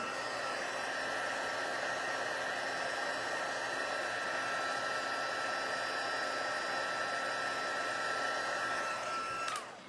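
A heat tool blows a steady, loud whirring hiss while it melts embossing powder for a stamped card-making project, running continuously and close by before cutting off abruptly at the end.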